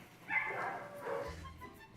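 Dogs at an animal control shelter give a couple of short, faint barks and yips at a distance, lasting only a moment.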